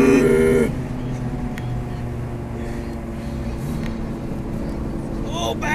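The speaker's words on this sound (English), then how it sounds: "It kind of sounds like the bad wheel bearing in the back." An old beater car driving home with a bad rear wheel bearing, a steady low drone and hum throughout with faint talk at the start and end.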